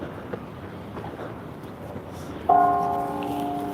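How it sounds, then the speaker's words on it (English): Church bell in a Veracruz town strikes once with a clear ringing tone that decays slowly over wind and outdoor ambience. "Oh, there goes the church bells."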